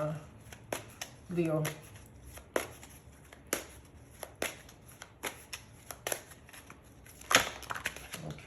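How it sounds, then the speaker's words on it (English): A tarot card pulled from a deck: quick papery snaps and riffles repeat irregularly, close and crisp, with a brief spoken word in between. "let me just take a card out"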